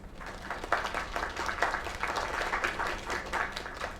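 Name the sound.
audience applause in the video game Lake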